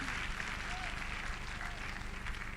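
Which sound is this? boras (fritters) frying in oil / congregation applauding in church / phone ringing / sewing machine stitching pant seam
congregation applauding in church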